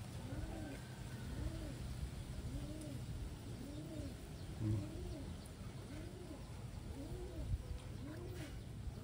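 Pigeons coo in a soft, regular series of rolling calls, fairly faint and repeating steadily over a low background hum.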